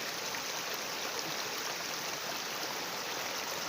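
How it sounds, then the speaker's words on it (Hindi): Steady rushing of a forest stream near Abbottabad, Pakistan, water flowing continuously and fairly loud and close, with no voices over it. "ये साथ साथ ये पानी चल रहा है।"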